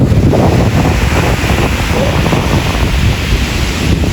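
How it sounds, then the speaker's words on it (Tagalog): Big ocean waves crash on a beach in a continuous loud roar of surf, heavily buffeted by wind noise on the microphone, with no talking. "Laki po ng alon ngayon."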